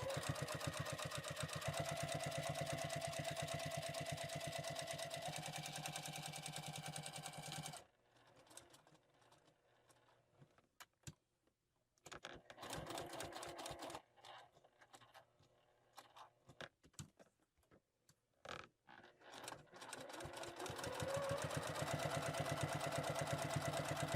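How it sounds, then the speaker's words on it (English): A sewing machine stitches a fabric bow tie in a rapid, even whir, fading into a stretch of short stop-start bursts before running steadily again, close and fairly quiet. "I will sew all the way down, go across the bottom, all the way back up and across to kind of make a really large box."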